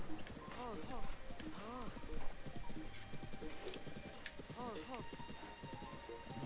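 Hoofbeats of a horse galloping in the video game The Legend of Zelda: Breath of the Wild, a steady rapid clip-clop running through the whole stretch beneath someone talking continuously over it.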